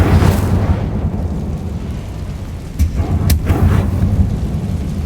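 Incendio fire spell cast in Hogwarts Legacy, a loud roaring, rumbling burst of flame that swells, dips briefly and surges again with a few sharp crackles.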